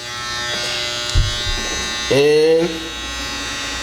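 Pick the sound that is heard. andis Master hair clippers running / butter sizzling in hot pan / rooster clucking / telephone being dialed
andis Master hair clippers running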